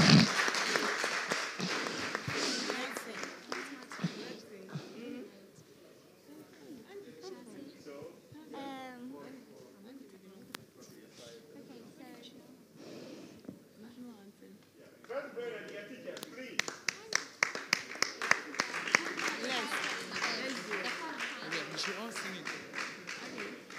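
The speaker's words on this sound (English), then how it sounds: "Round of applause, round of applause," An audience at a school quiz quarterfinal gives a round of applause, with claps rising at the start and again toward the end amid crowd noise and talk.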